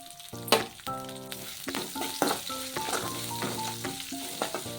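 Cabbage sizzles in a hot pan as it is stirred for cabbage masala rice, a steady frying hiss with stirring scrapes under background music.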